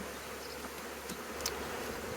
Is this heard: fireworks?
no